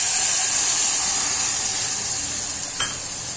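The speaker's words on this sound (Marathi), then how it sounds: "आता हे मिल्क पावडरचं दूध आपण यात घालून घेऊया" Milk made from milk powder poured into a pot of roasted rice for a no-milk rice kheer, giving a steady loud sizzling hiss with a brief splash near the end, no voices.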